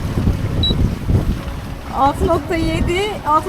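Wind buffets the microphone with low rumbling gusts aboard a sailboat at sea, then a voice speaks briefly over the blustery noise.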